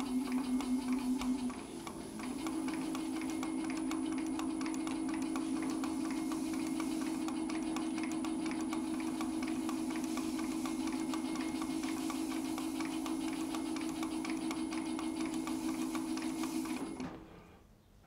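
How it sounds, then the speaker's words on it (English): Wood lathe turning slowly while a vase is coated with black dye, a steady mechanical hum and whir with a faint rhythmic tick, close and even, running for about seventeen seconds before spinning down and stopping. "Turn the lathe on slow."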